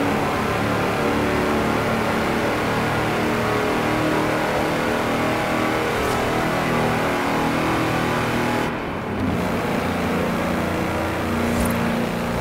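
A tractor engine in the Forza Horizon 4 racing game revs hard at top speed, a loud continuous mechanical roar that holds steady throughout with only a brief dip, and no speech.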